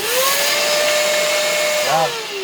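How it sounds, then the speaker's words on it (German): A vacuum cleaner runs in a workshop with a steady, loud whine, its pitch dipping and wavering near the end before the motor settles. "Für den Staub habe ich einen Staubsauger, aber ich glaube, der ist gerade leer."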